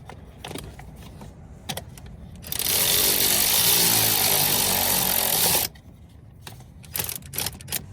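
A power tool whirs in a continuous burst of about three seconds while tightening bolts on the ignition control module of a 1995 Chevy G20 van with a 350 5.7L engine, with clinks and rattles of handling before and after.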